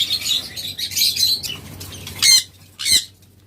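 Caged lovebirds squawk and flap their wings, bursts of fluttering and harsh shrill calls up close, with two loud sharp squawks near the end and no speech.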